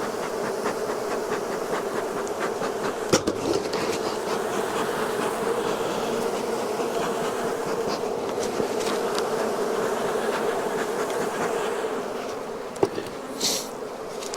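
A dense, steady buzzing of many honey bees around a hive fills the air continuously, with occasional faint clicks and bumps close by.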